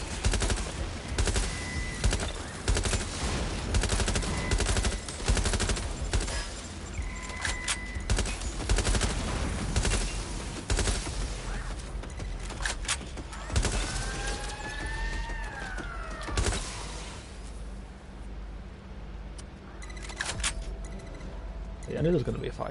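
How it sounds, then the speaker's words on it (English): Heavy firefight in the video game Watch Dogs Legion: dense, continuous rattling automatic gunfire and scattered shots, loud and close, with a siren-like wail rising near the end and a voice talking over the action. "Yeah, I knew there was going to be a firefight."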